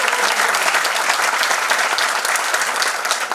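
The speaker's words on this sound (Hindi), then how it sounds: "ताली बजाए इन लोगों के लिए।" A seated audience at a business training session bursts into dense, steady applause, many hands clapping at once, loud and close for a few seconds without any speech.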